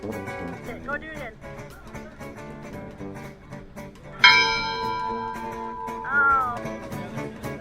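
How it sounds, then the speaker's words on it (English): A ship's bell aboard the American Victory ship rings out with a bright, loud, sustained metallic tone that lingers and slowly fades, amid the murmur of voices and background noise. "You can ring the bell if you dare."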